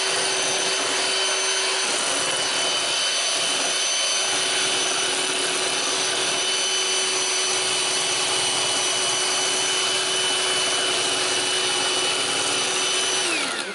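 Electric mixer whirring steadily through homemade blue cheese dressing in a home kitchen, a continuous high motor whine at an even pitch for the whole stretch, fairly close and without talk.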